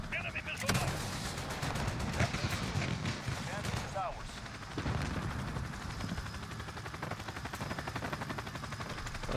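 Heavy automatic gunfire and booming explosions from a chopper gunner killstreak in Modern Warfare rattle on continuously under a player's talk, with rapid bursts and occasional louder blasts.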